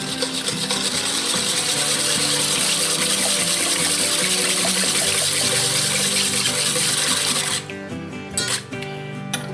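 Ingredients for a Pennsylvania Dutch ham loaf stirred in a cast iron pan, a steady scraping and sloshing close by, easing and breaking up briefly toward the end.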